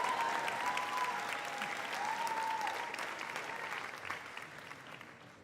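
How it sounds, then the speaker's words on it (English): Enthusiastic audience applause at a 2018 high school graduation speech, a dense steady clapping of a large crowd that gradually fades over several seconds. "Enthusiastic applause."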